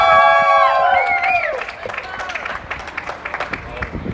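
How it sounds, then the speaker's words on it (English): An audience at a student event claps and cheers, starting under a loud whooping voice and settling into scattered, steady hand claps from the crowd. "Applause, please."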